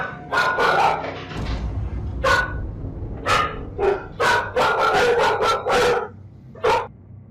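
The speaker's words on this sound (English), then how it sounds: "Suddenly, the dogs became frightened and started barking." Frightened dogs caught on a security camera, barking in a burst of sharp repeated barks with yips, nearby and loud, with short gaps between volleys.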